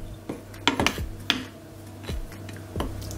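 A bowl of dry batter of all-purpose flour, salt and pepper being mixed, giving scattered clinks and scrapes of a utensil against the bowl at an uneven pace, close and fairly quiet.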